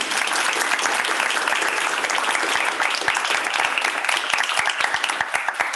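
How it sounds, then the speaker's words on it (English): A crowd at an intern and fellow orientation gives a round of applause for the team, dense continuous clapping with sharper individual claps standing out toward the end. "let's go ahead and give a round of applause to our team"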